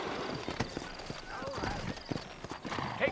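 Horses clip-clop in the frontier setting of Red Dead Redemption, with irregular near hoofbeats, a brief whinny, and a voice talking over them.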